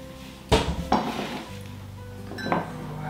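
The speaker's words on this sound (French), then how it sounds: "Je vais mettre déjà les carottes dans un bol." Carrots going into a bowl in a home kitchen, heard as two sharp clattering knocks close by, then a softer clink a moment later, with no talking.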